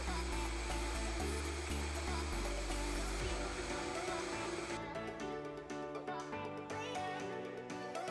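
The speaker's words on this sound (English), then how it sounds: "put the lid on, and then blend for about 3 minutes until creamy and there are no chunks remaining" A blender runs on tigernut milk with water and salt, giving a loud, continuous whirring roar that shifts in pitch partway through as the mixture smooths out.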